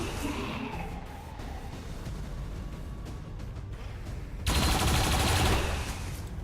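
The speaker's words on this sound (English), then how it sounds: "heavy turret, firing at the Lost." A heavy turret in XCOM 2 rattles off sustained automatic fire at the Lost, a dense, continuous burst of gunfire with a louder, harsher surge near the end, alone without talk.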